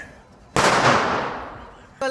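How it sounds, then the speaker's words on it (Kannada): Firecrackers set off in a neighbourhood celebrating India's cricket win: after a low hiss, a sudden loud broadband burst at about half a second decays over more than a second, with a second sharp onset just before the end. "ವಿನ್ ಆದ್ಮೇಲೆ ನಮ್ಮ ಏರಿಯಾದಲ್ಲಂತೂ ಪಟಾಕಿ ಹಾರಿಸಿ ಸಾಕಾಯ್ತು"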